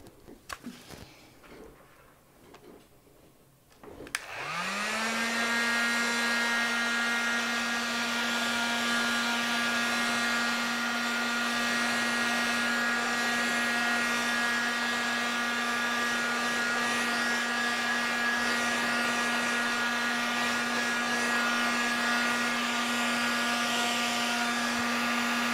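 A hair dryer drying paint in an abstract art journal switches on after a few seconds of soft handling noise, spins up and holds a loud, steady whining blow that continues without a break.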